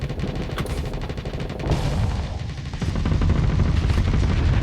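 Point defense guns firing in the Starsector space game, a steady, dense rattle of rapid shots with occasional deeper booms, growing louder toward the end.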